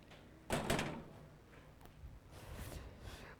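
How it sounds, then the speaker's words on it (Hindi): A classroom door swings shut with one solid thud, followed by fainter rattling and shuffling in a quiet room. "दरवाजा को सटा देना।"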